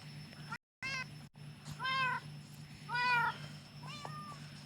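A cat meows three times at close range, short plaintive calls spaced a second or so apart over a low steady hum.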